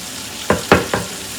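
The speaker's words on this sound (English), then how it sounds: "I'm going to saute my veggies in that" Carrots, onion and celery are sautéed in ground beef fat, and three close, loud sizzling bursts sound as the vegetables are stirred in the hot pan.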